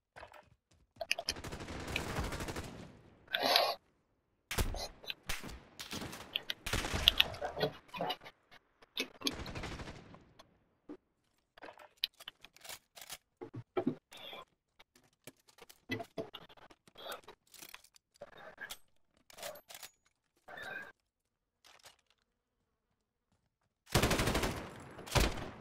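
Light machine gun firing in a shooter video game: sharp single shots and short irregular bursts with silent gaps between, plus a few heavier sustained stretches near the start and end.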